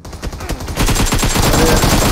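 A few scattered shots in PUBG give way to a loud, sustained burst of automatic gunfire at close range, rattling rapidly until the end.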